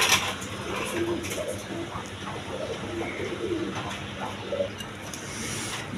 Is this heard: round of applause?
no